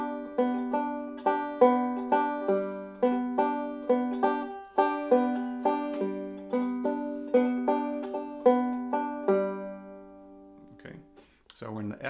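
A slow vamping accompaniment pattern in 4/4 time, played alone as even rhythmic chords in a steady, repeating, gently decaying pulse, ending with a short bit of quieter fumbling.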